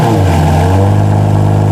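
A Lamborghini Murcielago LP640 V12 engine roars loud and close, with a steady, heavy revving tone that holds for under two seconds.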